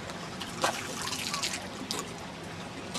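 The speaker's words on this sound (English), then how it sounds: "Look at that water." Water trickles and drips outdoors in a natural setting, a light, continuous liquid patter with occasional sharper splashes, close and fairly quiet.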